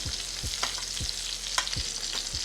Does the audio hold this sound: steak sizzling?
yes